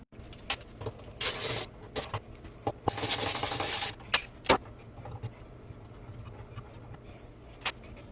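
Light fixture brace being removed from under a kitchen cabinet: scattered metallic clicks and rasping scrapes, with a few longer bursts of grinding or rubbing close by, set against a quiet room.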